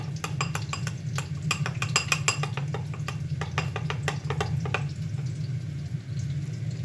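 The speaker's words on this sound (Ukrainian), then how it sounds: "Добре промішую" A utensil scrapes and clinks steadily against a pan while a flour-thickened sour cream sauce sizzles underneath, a busy rhythmic stirring that eases off toward the end.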